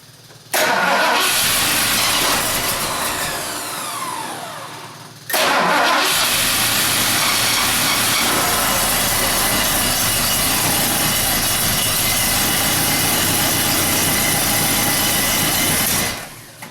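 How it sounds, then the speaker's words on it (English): A Ford 460 V8 engine cranks and fires with a sharp pop, backfiring through the carburetor, cuts out, then restarts and runs roughly and loudly for about ten seconds before shutting off. "it backfired out of the front again, out of the carb."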